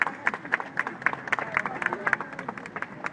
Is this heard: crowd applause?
yes